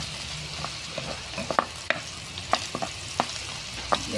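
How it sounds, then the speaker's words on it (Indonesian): Potatoes and garlic frying in a pan for chicken caldereta, a soft continuous sizzle broken by repeated sharp scrapes and clinks of stirring at irregular intervals, close up with no talking. "Ito prituhin natin yung patatas natin guys."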